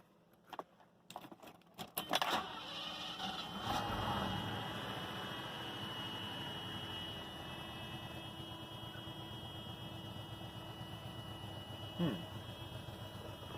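A Mercedes S-Class engine cranks over, catches and settles into a steady idle hum, with a few clicks and rattles before it starts.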